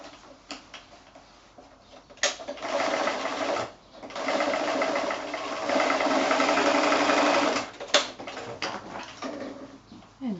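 Close, steady whirring of a sewing machine stitching a double row over a cord on a fat-quarter pocket bag, one long run with a brief pause and a few ticks before and after.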